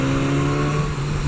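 A BMW S1000R motorcycle engine runs at a steady, high rev with a strong constant hum and no obvious rise or fall, heard close and loud with no talk.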